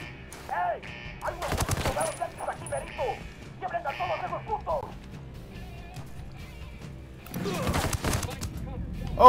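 A machine gun turret in Ghost Recon Wildlands rips out two short, loud bursts of rapid fire separated by quieter stretches, with a dog barking and voices talking in between.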